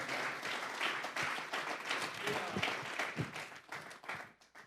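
A church congregation claps together as an offering to God, a lively, fairly close burst of applause with some voices mixed in, tapering off at the end.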